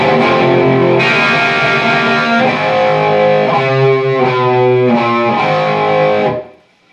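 Heavily distorted electric guitar plays a riff, loud and sustained with chugging low notes and ringing chords, continuous until it cuts off near the end.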